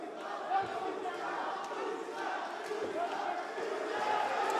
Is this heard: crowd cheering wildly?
yes